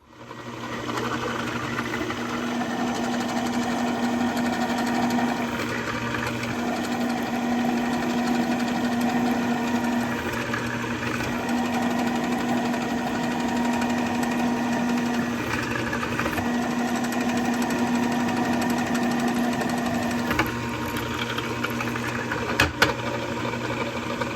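A steady mechanical whine and hum runs throughout as a drill bores a hole in metal for 1982 Honda XR200R foot pegs, with slight changes in pitch and a faint click near the end.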